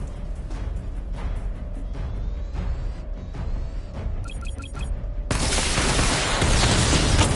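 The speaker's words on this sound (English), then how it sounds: "Charge up missile barrage to level 2 and destroy 4 active targets to complete diagnostic test." A missile barrage fires in a PS4 video game: electronic tones and a rising charge-up lead into a sudden, loud, dense wall of blasts that carries on to the end.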